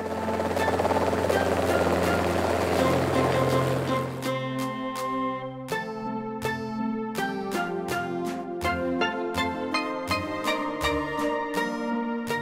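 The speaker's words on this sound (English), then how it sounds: "Helicopter." An ambulance helicopter's rotor and engine give a dense, loud roar for about four seconds, then cut off and give way to a run of bright, struck musical notes.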